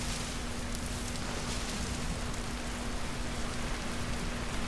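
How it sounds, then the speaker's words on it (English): Video game rain falls steadily as a dense, even hiss with a constant faint hum beneath it, continuous and uniform for a few seconds with no voices. "And it's raining again."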